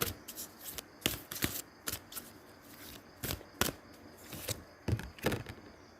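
Tarot cards being shuffled and drawn at close range, a series of quiet irregular riffles, snaps and taps spread across a few seconds against a soft background.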